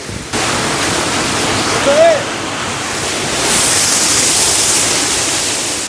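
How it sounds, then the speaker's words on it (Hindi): Steady rushing hiss of a waterfall spilling down over large rocks in Kangan, Ganderbal, continuous and fairly loud, with a voice briefly audible in the middle and the wash swelling toward the end. "देखिए अल्लाह की कारीगरी क्या है, किस तरह ये बड़े पत्थर से नीचे टपकता हुआ पानी नीचे आ रहा है।"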